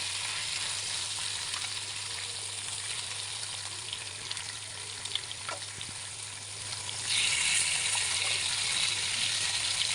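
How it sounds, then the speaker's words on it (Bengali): Fish fries in a pan with a continuous close sizzle and crackle that holds steady and grows louder toward the end. "মাছগুলো ভাজা হতে থাকুক আর পটল প্রায় এক পিট হয়ে গেছে"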